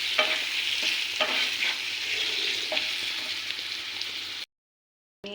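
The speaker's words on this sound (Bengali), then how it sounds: "সামান্য একটু নুন দিয়ে হালকা করে ফ্রাই করে এটাকে তুলে দিচ্ছি" Paneer seasoned with black pepper, Kashmiri chilli powder and salt frying lightly in oil, a close, continuous sizzle with stirring scrapes and spatters before it cuts off abruptly.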